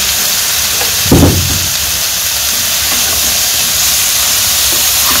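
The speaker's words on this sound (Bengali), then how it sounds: "এখন আমি ভালো করে ভেজে নিই।" A village-style pan of food with salt, turmeric and green chili fries in a continuous loud hiss and sizzle, with a single brief clatter near the start.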